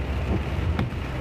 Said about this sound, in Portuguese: Agora tá chovendo bem forte.